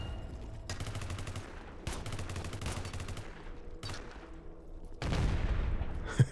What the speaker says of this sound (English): It is kind of funny we're in a server room having this shootout.